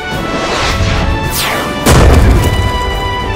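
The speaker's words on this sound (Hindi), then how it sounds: "मिसाइल सीधा जाकर रोबोट के ऊपर लगती है जिससे वो रोबोट वहीं पर ब्लास्ट हो जाता है।" An RPG missile strikes and blows apart a robot in a cartoon, heard as a loud, close, rumbling explosion with a sharp whooshing crash near the middle and a heavy boom that continues to the end.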